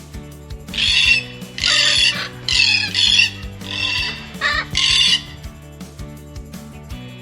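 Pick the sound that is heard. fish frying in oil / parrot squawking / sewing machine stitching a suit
parrot squawking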